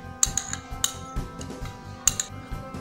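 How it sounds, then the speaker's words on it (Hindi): A spoon scrapes and clinks against a bowl while ghee is stirred into a rasmalai mixture, giving a few sharp metallic taps spaced through soft, close scraping. "घी को हम इसमें अच्छे तरीके से मिक्स कर लेते हैं।"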